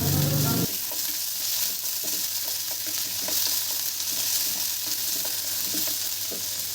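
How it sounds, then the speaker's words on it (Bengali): Diced potatoes, onion and green chili fry in mustard oil with a constant bright sizzle. Soft clinks and scrapes of stirring come through now and then. "1 থেকে 2 মিনিটের মতন একটু ভেজে নেব।"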